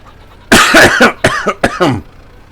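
A close, loud burst of several harsh coughs in quick succession, with short gaps between them, against an otherwise quiet background.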